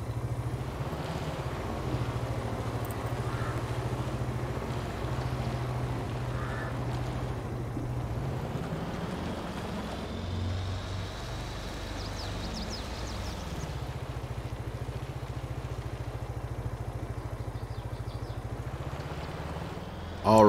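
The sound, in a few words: bike engine riding in video game Farming Simulator 22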